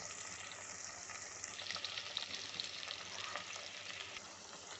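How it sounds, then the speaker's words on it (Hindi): Okra (bhindi) fries in hot oil for a dhaba-style bhindi masala, giving a steady, close, dense sizzle that swells slightly midway and carries on without pause or voices. "दो मिनट हो चुके हैं, हमारी भिंडी अच्छे से फ्राई हो रही है।"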